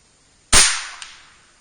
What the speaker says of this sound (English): I'm going to shoot 4 rounds and 1 round into the pine board.